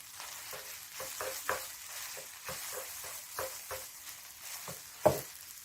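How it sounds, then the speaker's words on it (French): Eggs frying with rice noodles in a pan for pad thai, a faint steady sizzle broken by soft scraping stirs at irregular intervals, with one sharper clack near the end. "On va laisser cuire les œufs avec les pâtes comme ça."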